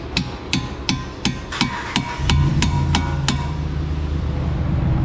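A hammer strikes about ten sharp metallic taps in steady rhythm to drive a strut out of the steering knuckle on a Chrysler 200. A low rumbling hum enters partway through and continues beneath the later blows.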